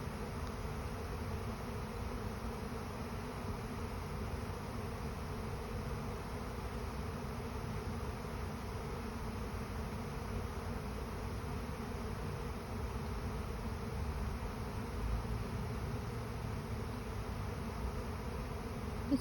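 A swarm of honeybees arriving in a front yard makes a dense, continuous buzzing drone that holds steady throughout, with no voices.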